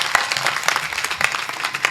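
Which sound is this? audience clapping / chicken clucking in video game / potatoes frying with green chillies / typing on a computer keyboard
audience clapping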